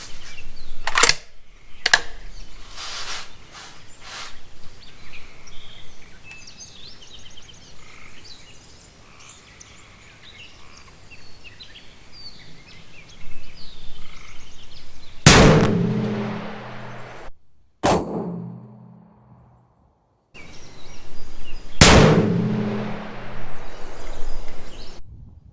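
A custom 300 Win Mag rifle fires at a 100-yard target outdoors. Three loud, sharp shots a few seconds apart each leave a short ringing tail, with fainter pops earlier in the clip.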